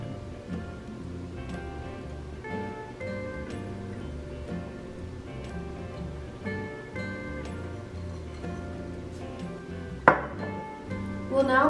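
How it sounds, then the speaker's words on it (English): A whisk clinks and taps irregularly against a bowl while combining whole wheat and all-purpose flour, baking soda, salt and cinnamon, fairly soft under background music. "we'll just whisk it to combine it."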